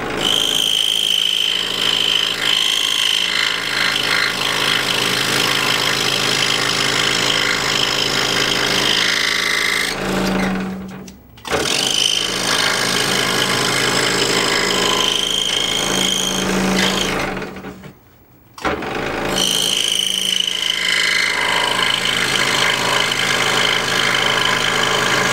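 A scroll saw cuts the inside corners of a pattern, a loud, steady buzzing rattle that stops briefly twice as the blade backs out and then resumes, with no talking.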